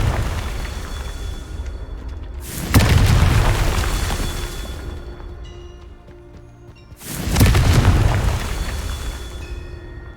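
Confringo fire spell explosions in the Hogwarts Legacy video game: two loud, deep booms about four and a half seconds apart, each with a long rumbling tail that slowly fades. No one speaks.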